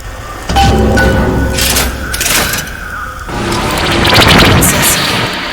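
A machine fires up in Bioshock Infinite, opening with a loud heavy boom, then clanking, crashing and a swelling rush of noise that stays loud to the end.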